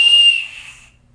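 A whistle blown close up, a single loud shrill blast that fades away within about a second.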